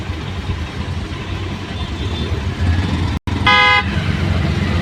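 A car engine idles under steady road noise, then after a brief dropout a vehicle horn blares in one long, loud, close blast.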